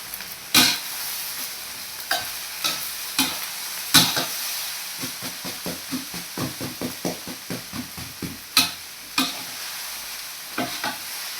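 A spatula scrapes and tosses pork fried rice in a hot pan, in a steady run of sharp, rhythmic strokes over a constant sizzle.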